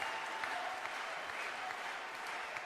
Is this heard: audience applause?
yes